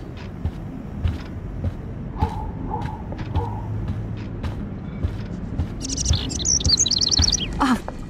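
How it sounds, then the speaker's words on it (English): Bird chirps ring out in the game Life is Strange, a quick run of bright high tweets near the end over a busy, muffled background of thuds and low noise. "can you help me get this bird out of here?"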